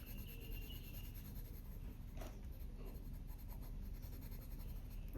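Polychromos colored pencil rubbed across paper while coloring terracotta leaves, a steady soft scratchy rasp continuing without pause, close and quiet, with no talking.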